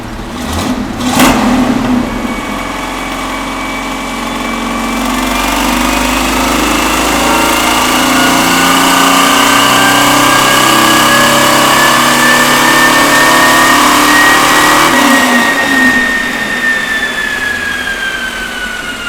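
A 1967 Camaro on a chassis dyno runs loud and steady, its engine climbing into a sustained high rev with a rising whine for about ten seconds before easing off.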